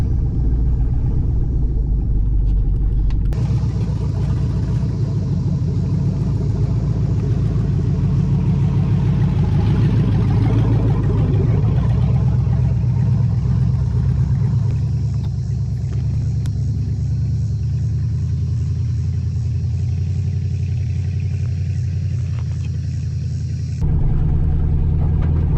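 An LS-swapped Squarebody Chevrolet Suburban running on its first test drive, its V8 giving a steady, loud low rumble from inside the cab, the engine note rising slightly mid-run before easing back, with no talking over it.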